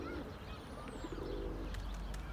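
Pigeons cooing in short soft calls under open sky as a flock flies overhead, faint and distant over background noise.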